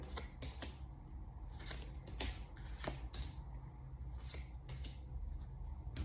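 Playing cards are shuffled close by, a run of quick papery riffles and snaps in an uneven rhythm.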